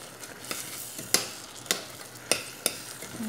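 Spoon stirring a biscuit dessert mixture in a bowl, soft scraping and sticky swishing with several light clinks at irregular intervals, close and quiet.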